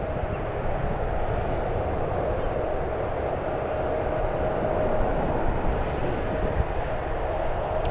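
Steady, loud jet engine roar from an aircraft at San Francisco airport, holding constant for several seconds with a faint whine above it and no talk.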